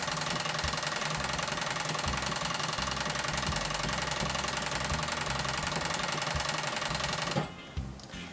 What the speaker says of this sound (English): I'm just going to run the serger until I can see my knots coming close